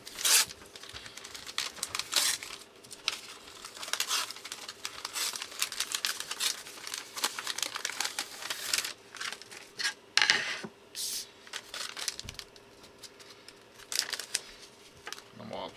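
Contact paper is peeled and smoothed onto a wood sign, making a long run of crinkling, scraping and tearing rustles in uneven bursts, fairly faint and close up, with a constant faint hum underneath.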